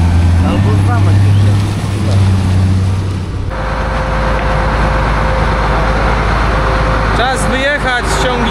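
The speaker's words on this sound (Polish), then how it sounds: "Czas wyjechać z ciągnikiem z hali." A tractor pulls out of a farm hall during harvest repairs on a Claas Lexion 660 combine, its engine droning steadily and loudly with a shift in tone partway through and a few squeaky clatters near the end.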